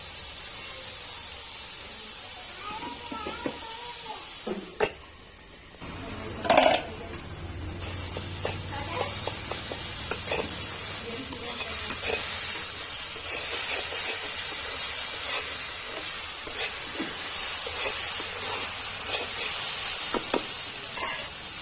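Chopped tomato and salt sizzle in a hot pan for a Chhattisgarhi vegetable dish, giving a steady frying hiss with a brief drop around five seconds, then stirring clatter and scraping over continuous sizzle.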